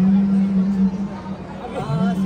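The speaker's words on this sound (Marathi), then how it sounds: "बघू शकताय तुम्ही किती गर्दी आहे माणसांचं" A large crowd at a Sai temple on a busy Thursday keeps up a dense, steady hubbub of overlapping voices, with a low hum running beneath.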